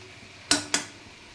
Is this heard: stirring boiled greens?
yes